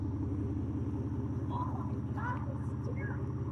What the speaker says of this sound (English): there's old mom driving the Aston Martin Vanquish